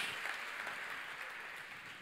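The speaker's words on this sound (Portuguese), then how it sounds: "Dá uma salva de palmas a Yeshua HaMashiach." A church congregation breaks into steady applause, a dense, even wash of many hands clapping at moderate volume throughout, with no talking over it.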